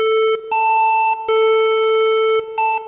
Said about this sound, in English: it's a kind of a square wave when you play it at the normal audible range